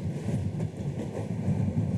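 Moving train in Moscow heard from up on its roof, a steady close rumble and rattle of the cars running along with constant loud low-pitched noise.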